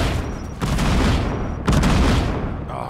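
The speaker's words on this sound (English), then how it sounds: "sticky bombs" Sticky bombs exploding in Fortnite Battle Royale, two loud booming blasts about a second apart with crackling debris, dense and close with no talk.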